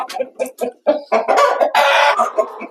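Hens cluck in a chicken coop of meat-and-egg breed birds, a busy close chorus of short clucks and squawks building into a louder, drawn-out cackle, with no talking.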